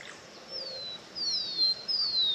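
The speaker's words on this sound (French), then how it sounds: "Des oiseaux." Birds call in a canyon oasis near desert dunes, a few faint high chirps and thin whistled notes, some sweeping downward, over quiet outdoor background.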